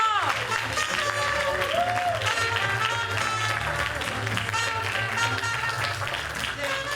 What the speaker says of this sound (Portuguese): Palmas pra Luz del Fuego!